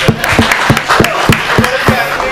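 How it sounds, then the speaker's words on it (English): Audience applause at a Deepika Padukone launch event for Axis Bank, a dense wash of clapping with a steady low thumping beat underneath, as though music plays along, sustained and fairly loud throughout. "maybe take a round of applause, guys"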